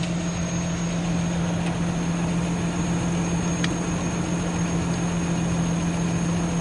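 Toyota Landcruiser HJ45 diesel with non-working glow plugs, idling in a steady, even low rumble with a constant hum and no pauses or revving.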